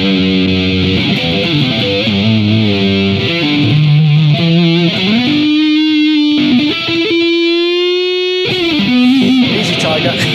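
An electric guitar played through a modelled amp in BIAS Amp Designer, driven into heavy distortion: sustained, buzzing chords and held notes that bend and ring out loud and close, with a brief gap before another saturated note.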